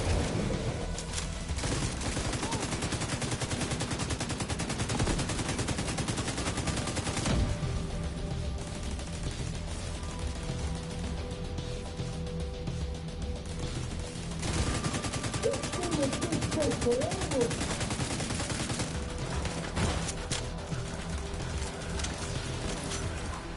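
Rapid automatic gunfire with hollow point bullets in The Division 2, sustained bursts of fast rattling shots that rise and fall with short gaps, steady and fairly close throughout.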